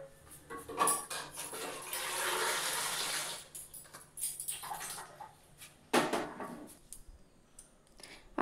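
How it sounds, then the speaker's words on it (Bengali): Cold water is poured from a tap over boiled eggs in a bowl, a steady splashing rush amid clinking of dishes and metal, followed by lighter clatters and scrapes close by. "এবার আমি একটু ঠান্ডা জল দিয়ে দেব।"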